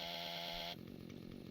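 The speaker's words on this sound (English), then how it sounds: "Ooh, chainsaw." Chainsaw from the Doom-engine game Freedoom: a loud, steady buzzing idle with a dense harmonic whine that abruptly drops to a lower, rougher sputtering rumble partway through, heard alone.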